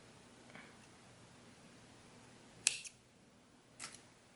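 Scissors snip a crochet yarn tail on a cotton ruffle top, one sharp close snip following a faint rustle, then a softer second snip in an otherwise quiet room.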